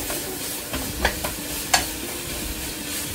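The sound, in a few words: stir-frying green onions and pork in a pan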